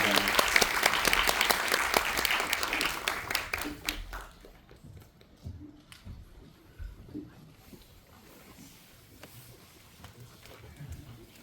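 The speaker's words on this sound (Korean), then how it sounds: "큰 박수 부탁드립니다" A cinema audience at a film talk in CGV Yongsan applauds loudly for about four seconds. The clapping then fades into quieter room murmur and shuffling.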